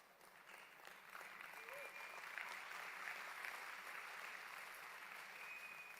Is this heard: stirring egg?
no